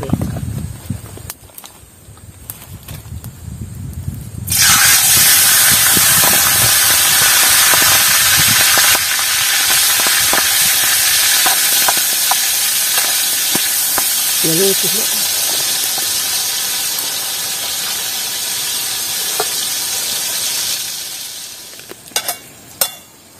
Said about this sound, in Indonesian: goreng kerang kerangnya